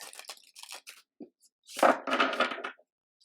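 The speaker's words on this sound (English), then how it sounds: "I feel like I want to shuffle these" Crisp papery riffling in short bursts, a few soft flicks of tarot cards followed by a louder, longer shuffle, close by with no voices.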